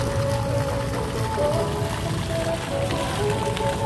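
A shower fountain in a town plaza runs with a steady splashing stream of water that continues throughout, moderately loud, with faint tonal sounds in the background and no clear talk.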